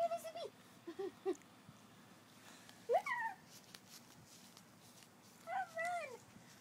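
A human voice mimics a cat, making a few short meowing cries with pauses between them, soft and close, with a quiet background.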